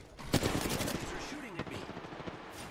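Rapid gunfire aimed at the player in Apex Legends: dense bursts of automatic shots crackle up close, then thin into scattered single shots while a player talks over the fighting.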